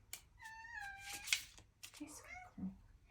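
A house cat meows several times in short, drawn-out, rising and falling calls, close and clear. A person speaks softly to it in between.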